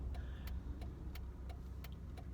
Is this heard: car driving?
yes